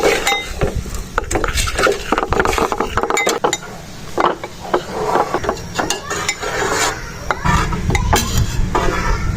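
Milk powder and other ingredients being stirred together in a bowl for Papdi Sohan Halwa, a spoon scraping and clinking steadily against the dish up close, with no voices.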